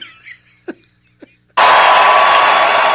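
A crowd at a political rally erupts into loud, sustained cheering and shouting after a quiet stretch with a couple of faint, brief sounds.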